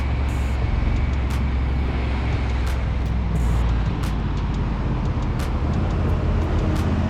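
Road traffic heavy with trucks rolls past as a continuous low rumble and wind roar, with several brief louder pass-bys over the steady drone.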